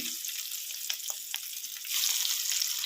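Ingredients for an egg curry fry in a pan with a soft, steady crackling hiss and a few faint pops, growing a little louder toward the end; no voices.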